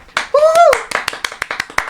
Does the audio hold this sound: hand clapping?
yes